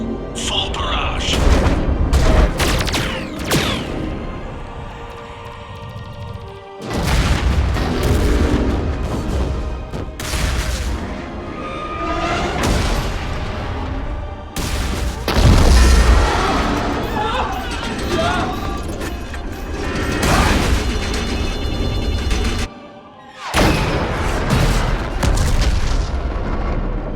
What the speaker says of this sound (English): All ships, full barrage.